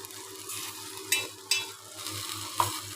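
Tomato and onion fry in a pan while a spoon stirs them, giving a steady sizzle with a few sharp scraping clacks against the metal.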